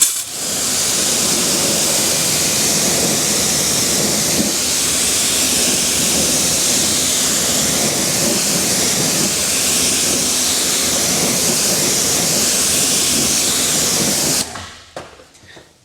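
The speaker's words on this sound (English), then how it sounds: "Let's get this rinsed off and then let's try it one more time" Steady water spray rinsing a car tire, a loud continuous hissing wash that runs unbroken for about fifteen seconds before cutting off abruptly near the end.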